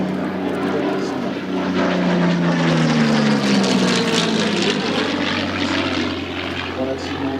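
Propeller drone of a Curtiss P-40 Warhawk fighter in flight at an air show, a loud sustained engine tone that rises and then eases as the plane passes.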